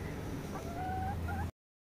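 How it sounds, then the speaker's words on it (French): Three hens clucking softly at a distance, a few short rising calls over a steady low background hum, faint and alone before the sound cuts off abruptly. "Ce sont nos 3 jolies poules."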